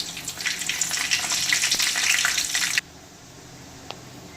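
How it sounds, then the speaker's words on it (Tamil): Mustard seeds, urad dal, cumin and dried chillies crackle in hot oil, a dense, close, fairly loud sizzle that cuts off abruptly partway through, leaving a faint hum and one small click. "இப்போ எண்ணெய் சூடானதும் இது கூட கொஞ்சமாக கடுகு, உளுந்த பருப்பு, கொஞ்சமாக சீரகம் ஆட் பண்ணிக்கலாம்."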